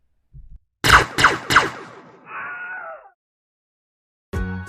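A house cat meows in short bursts, with several sharp, loud close calls and then a longer drawn-out meow, separated by silence, with another brief sound at the end.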